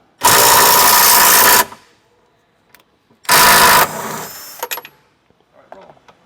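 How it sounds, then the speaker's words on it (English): A power tool, likely an impact driver, removes spare tire hinge bolts on a 2024 Jeep Wrangler in two loud, sustained bursts with a pause between, followed by a few clanks and softer handling sounds. "now we're going to remove our 3 bolts holding our hinges on"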